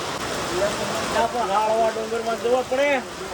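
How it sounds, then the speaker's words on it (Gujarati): Steady rain noise hisses throughout while someone talks over it, his voice rising and falling above the constant patter. "થોડુંક આવીએ તો વરસાદ આવે"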